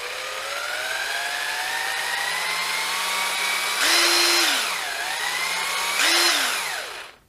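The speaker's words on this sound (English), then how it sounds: "listen to how the trigger builds up nice and slowly, and then when it hits top speed" A Ryobi R18QS Quiet Strike impact driver whines steadily as its trigger is eased in, rising slowly in pitch, then two bursts jump to top speed with a louder, harsher hammering before each winds down; close and loud with no talk.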